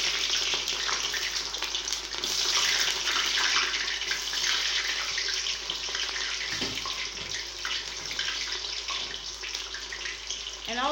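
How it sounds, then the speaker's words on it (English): Chopped onions hit hot sterol-free groundnut oil in a pot, giving off a continuous loud sizzle and crackle that holds steady throughout with no talking. "So now the oil is hot, I'll be pouring in my onions inside the pot."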